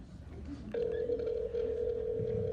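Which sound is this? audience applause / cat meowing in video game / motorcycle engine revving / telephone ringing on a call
telephone ringing on a call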